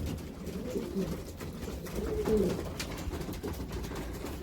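Pigeons in a backyard loft give soft, low, rolling coos, a few repeated calls close by over quiet background rustling, with no talk.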